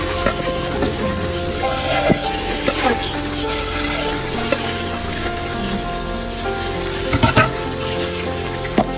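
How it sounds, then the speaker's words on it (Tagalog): Pork trotters sizzle steadily in a hot pan for braising, a loud continuous frying hiss close up with occasional stirring knocks and bubbling, no talk. "umpisahan na natin ang pagluluto ng pig trotter"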